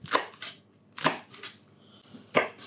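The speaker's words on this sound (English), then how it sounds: "So just chop those quite chunky." Herb leaves are chopped chunky with a knife on a board, three distinct sharp chops spaced about a second apart, each with a soft follow-up tap, close and clear with no talk.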